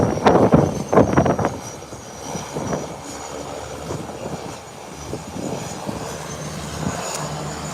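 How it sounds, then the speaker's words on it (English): An American Airlines plane being pushed back from the gate, its engines giving a loud rumbling roar at first that settles into a steady, lower hum heard from a distance, with no talk. "And here comes American Airlines being pushed back"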